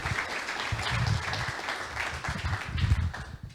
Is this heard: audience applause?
yes